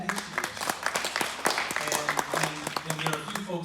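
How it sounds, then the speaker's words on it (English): Scattered clapping from a small audience at a Chicago event about police reform, moderate and irregular, heard beneath people talking. "there are a few folks who are clapping"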